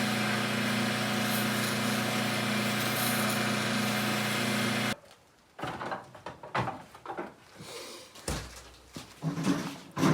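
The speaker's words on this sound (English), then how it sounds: "The dry sanding I'll use that power drill." A power drill runs with a steady, high whine while dry sanding a pinecone pizza cutter, then stops abruptly. Scattered scraping and handling noises follow, uneven and close.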